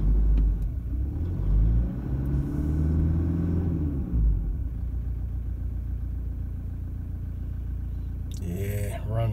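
A diesel engine with a misfire, running rough, idles close by with an uneven, lumpy low rumble that shakes steadily throughout, and a brief higher clatter comes near the end.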